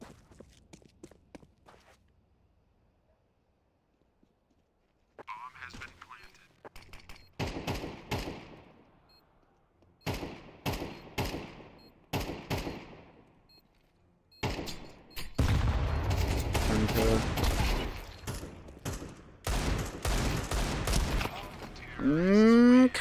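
Gunfire in the video game Counter-Strike 2 comes in short bursts of sharp shots with thuds and footsteps, separated by quiet gaps and growing denser toward the end.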